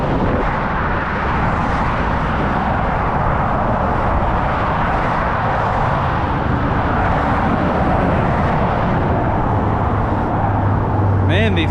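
Fast cars on Melbourne's M80 Western Ring Road make a continuous, loud roar from the roadside, a dense wash of traffic noise with no breaks.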